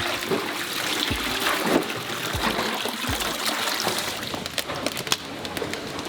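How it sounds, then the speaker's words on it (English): Workers wash vanilla beans in water, making a steady splashing, trickling wash with occasional louder sloshes and drips, moderately near and continuous. "Next, they wash each bean to remove any impurities."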